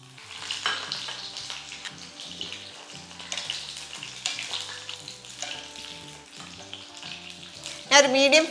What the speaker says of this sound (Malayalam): അപ്പോൾ എണ്ണ നന്നായിട്ട് ചൂടായി നമ്മൾ ഈ ബ്രിഞ്ചോളെല്ലാം ഒന്ന് ഫ്രൈ ചെയ്തെടുക്കുക.